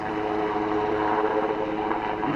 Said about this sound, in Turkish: Kara Kuvvetleri Arma Kurtarma Helikopteri bölgeyi terk etmektedir.